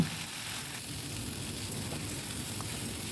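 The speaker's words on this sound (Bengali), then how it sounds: "শাকের জলটা শুকানো অবধি আমরা এটাকে ভালো করে ভেজে নেব" Taro and leafy greens fry in a pan while their water cooks off, giving a steady, even sizzle that holds at one level throughout with no talking.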